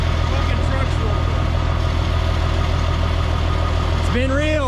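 A truck engine idles with a heavy, even, rumbling throb, close and loud throughout, with a voice breaking in near the end.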